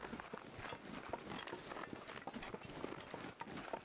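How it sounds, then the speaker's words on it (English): Soft footsteps crunch in the survival video game The Long Dark, a steady run of faint, muffled steps beneath a constant wind-like background noise. "I can hear footsteps over there."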